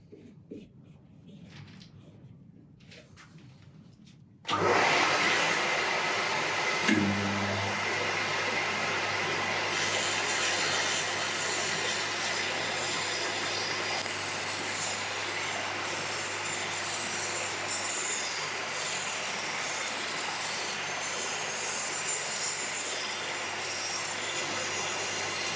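A Record Power Sabre 300 bandsaw cuts a freehand circle in oak: after a quiet start the machine starts abruptly and runs with a steady loud hum, and the blade's rasping bite continues evenly through the workpiece to the end.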